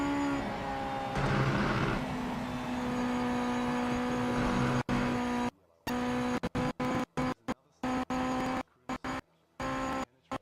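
Engine of a light car with a five-speed gearbox in a racing video game, a loud steady rev climbing then holding high before cutting in and out in choppy bursts.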